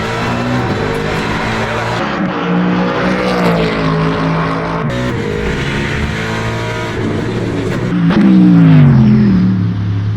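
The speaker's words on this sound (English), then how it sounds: "let's listen to a Mustang instead." A Ford Mustang GT3 race car in Le Mans Ultimate roars loud and close, its engine climbing through gears with sharp shifts and a surge of revs near the end.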